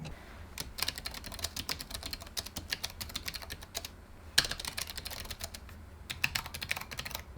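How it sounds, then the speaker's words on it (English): Typing on the full-size keyboard with numpad of an AORUS 17X gaming laptop: quick, close, irregular key clicks in dense bursts with brief pauses, clear and alone. "let's take a listen to those key sounds."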